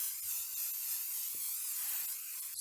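A Kiko Milano aerosol face makeup fixer gives a continuous, close, fine hiss as it sprays for a couple of seconds.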